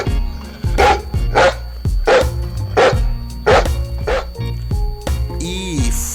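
Dog barks sound loud and close in a regular run of about eight sharp barks over a steady musical backing in a children's alphabet song, ending in a short whine.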